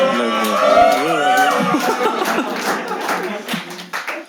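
Audience clapping and chuckling at a Hindi stand-up comedy show, a scattered burst of applause and laughter rising under a voice and fading out over a few seconds.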